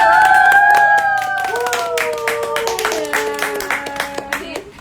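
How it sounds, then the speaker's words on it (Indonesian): Hands clap in a rhythmic series of sharp, separate claps that grow more distinct toward the end, heard behind a sliding tonal sound during a live baby care broadcast from a midwife clinic. "Tepuk tangan."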